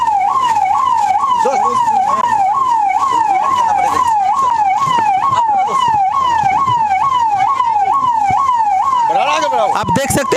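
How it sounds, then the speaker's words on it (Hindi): An ambulance siren wails loud and close in a steady, repeating up-down cycle through a crowded street in India, with traffic noise underneath and a burst of horns near the end. "एम्बुलेंस मेरे पीछे पीछे देख लीजिए आ रही है, बहुत ज़्यादा भीड़ है।"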